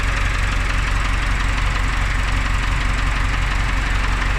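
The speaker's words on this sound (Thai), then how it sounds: "ก็ต้องวอร์มติดเครื่องไว้รันเครื่องไว้ครับ" A new car engine idling while it warms up, a steady, loud, low rumbling drone that runs unbroken and alone throughout.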